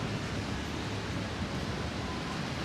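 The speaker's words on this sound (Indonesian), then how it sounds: "Anginnya lumayan kenceng ini." Strong wind buffeting the microphone at Legian Double Six beach in Bali, a loud, steady roar of broadband rushing noise that mixes with surf and runs without pause.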